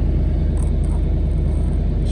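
A 1954 Studebaker Champion gasser engine idles with its exhaust mostly rotted off, giving a steady, close, loud low rumble that continues without pause.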